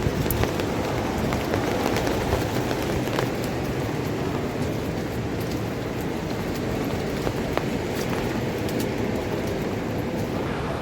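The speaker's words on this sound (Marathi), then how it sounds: "हवा भारी सुटली आहे. समुद्राचा रिमझिम आवाज पाऊस चालू आहे बघा." Rain and strong wind roar by the sea at the Deogad windmills, a dense, continuous wash of noise with scattered sharp patters throughout, loud and steady with no voices.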